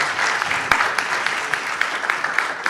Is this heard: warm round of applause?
yes